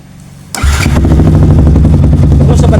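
Motorcycle engine started during a charging-system test for an overcharging fault, a sharp close crank that catches at once and settles into a loud, steady, rumbling idle.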